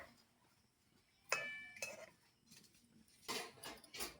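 A metal spatula scrapes and clinks against a pan of simmering milk for pulī pithe, heard as a few soft, separate strokes close by in a quiet room.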